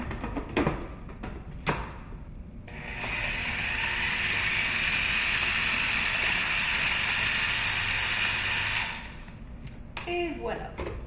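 A kitchen blender whirs through a yellow smoothie mix in one loud, steady roar lasting about six seconds, with a few clunks and handling noises before and after.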